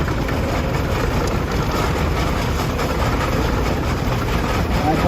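A 1920 Avery 40-80 tractor engine runs steadily in a parade of power at a show, a loud continuous low rumble with broadband noise throughout and no clear talk.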